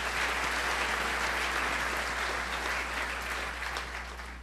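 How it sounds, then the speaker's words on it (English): Steady audience applause at an evening student recognition awards ceremony, a dense wash of clapping from a large crowd that holds evenly and tapers slightly toward the end, with no voices over it. "Round of applause."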